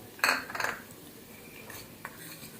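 A spoon clinks twice against a pan as pav bhaji masala is added to cooking vegetables, two short metallic taps followed by fainter scraping in a quiet kitchen.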